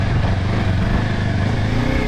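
A Kawasaki KLE 500 motorcycle on offroad ground revs hard as the throttle opens, its engine roaring loud and steady while the rear wheel spins.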